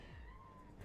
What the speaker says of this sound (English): And the kitten is back.